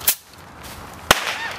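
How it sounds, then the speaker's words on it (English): Fireworks going off on July 4th, two sharp cracking bangs about a second apart, loud and close, with a faint crackle and whistle trailing between them over outdoor background noise. "Yeah, fireworks!"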